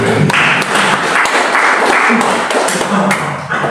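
Congregation clapping during a church service held in a Jakarta apartment, a loud, dense wash of hands filling the room, with a voice speaking over it.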